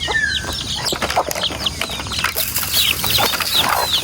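A flock of turkey poults chirps and peeps in high, overlapping calls on a small farm, busy and close, with scratching and rustling underneath.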